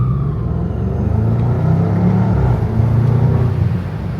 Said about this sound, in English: Anyway, that's what the car sounds like.